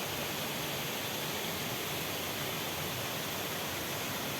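Water rushing through a roadside ditch makes a steady, dense hiss that stays even and unbroken throughout, with no voices over it.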